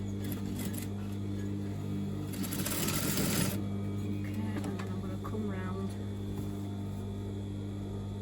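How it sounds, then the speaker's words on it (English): A sewing machine runs steadily, stitching the side seam of a circle skirt along the overlocked edge, a close continuous motor hum with a brief louder burst partway through. "I'm just going to stitch, run the foot up against the overlocking."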